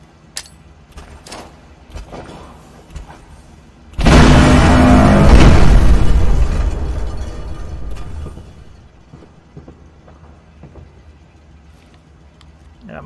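A heavy, sustained roar of cannon fire in Fallout 4 erupts midway, loud and dense for a few seconds before tapering off, with scattered clicks and faint voices around it.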